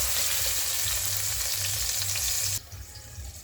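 Chopped garlic sautés in a hot pan for a sweet pork and chayote soup, a loud, steady frying hiss that drops off sharply near the end, with no voices.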